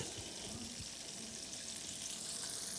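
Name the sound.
oysters frying in oil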